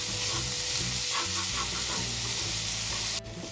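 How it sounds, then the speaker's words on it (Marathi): Vegetables stir-frying with chicken mince over a high flame give a steady, dense sizzle, with intermittent scraping and tossing of the pan under it and a brief dip near the end. "आणि हाय फ्लेमवरच या भाज्या परतून घ्यायच्या आपल्याला किम्यासोबत"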